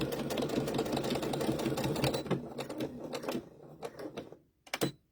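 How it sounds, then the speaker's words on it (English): A sewing machine back-stitches a plain baby bib, its rapid steady stitching loud and close, then slowing into a few short bursts before stopping. "Now I back stitch there, and I'm going to stop right in the stitching"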